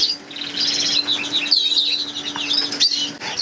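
Red agate mosaic canary hen chirping and trilling up close, bright rapid high-pitched tweets in quick bursts over a faint steady background hum, no voices.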